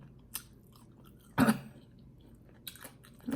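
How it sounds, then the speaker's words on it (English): Crispy wings are crunched in a few close, sharp bursts of chewing separated by quiet pauses, with no talking. "listen now if you can hear the crunch"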